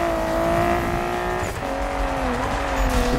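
Engine drone of a Nissan Skyline in the video game Need for Speed (2015), steady and loud with a pitch dip midway before climbing again, alone without talk.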